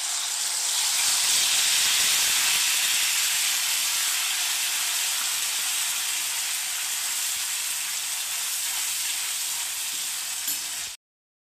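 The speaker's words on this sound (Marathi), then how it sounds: "हा ओला मसाला आपला परततोय" Wet masala paste sizzles in hot oil in a pan on a gas stove, giving a steady, loud, close frying hiss that runs unbroken for about eleven seconds before cutting off abruptly.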